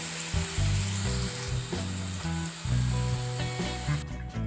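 Mustard seeds, cumin, onions and coriander fry in hot oil for cabbage kofta, a loud, close, continuous sizzle with tonal hum layered underneath.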